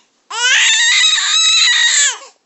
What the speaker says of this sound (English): Oh my goodness, you love to scream these days, huh?